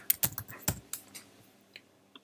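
Typing a reply on a Mac keyboard: a quick burst of close, crisp key clicks that thins out into a few scattered taps, with no talk.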